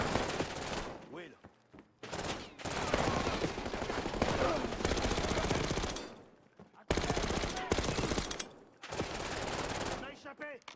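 Bursts of rapid machine gun fire in a Black Ops 6 campaign battle, several sustained volleys broken by short pauses, with excited voices speaking over the shooting.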